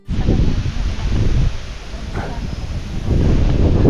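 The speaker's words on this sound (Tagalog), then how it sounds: "Pabuelo-buelo yung hangin." Gusty wind buffets the microphone outdoors during a typhoon, a loud, rough roar that rises and falls in waves with no talking.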